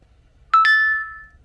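A WhatsApp message notification on a phone receiving a message relayed from APRS Droid ham radio: two quick bright tones, the second ringing on and fading over about a second, alone in a quiet room.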